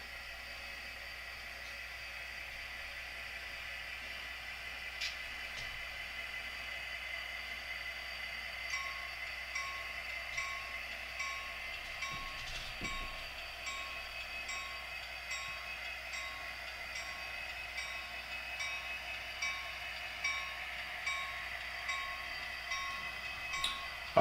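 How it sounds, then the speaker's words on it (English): Model railroad EMD SD60i diesel locomotive, a former Conrail unit, running on a layout: a faint, steady motor whine with high tones and soft, regular clicking from the wheels. "Our lead locomotive is an EMD SD60i."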